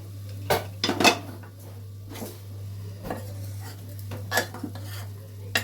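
A cooking-pot lid comes off over a bean and spinach vegetable dish with a cluster of loud metallic clanks, then lighter knocks and scrapes against the pot over a steady low hum.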